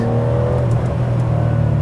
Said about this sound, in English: And that flat six noise as well.